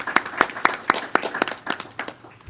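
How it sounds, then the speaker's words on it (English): A few people clapping at a school board meeting, with distinct, fairly evenly spaced claps and no crowd roar. "We can give her a nice round of applause."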